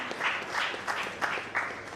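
Audience applause at a startup investor event, a brief burst of moderate clapping that comes in several soft pulses, heard at a slight distance with no clear talk over it.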